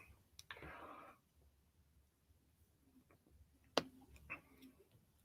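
Computer mouse clicking while browsing a website, a few sharp isolated clicks spaced apart, near and quiet, with a brief rustle at the start.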